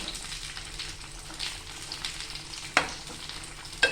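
Bangda mackerel frying in a pan, a soft continuous sizzle with faint stirring scrapes and two sharp clicks toward the end, heard close with no talk.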